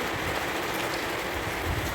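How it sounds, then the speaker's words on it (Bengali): Heavy rain falls in Oman, a dense, even rush of downpour that holds at a constant loudness with no voices. "প্রচুর বৃষ্টি হচ্ছে ওমানে, ওমানে সব ভাসিয়ে নিয়ে যাচ্ছে বৃষ্টি।"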